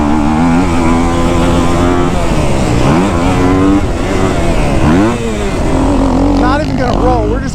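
A Kawasaki KX250F dirt bike engine is ridden on a hot day, its loud, close four-stroke note rising and falling as the throttle is worked through repeated revs and shifts.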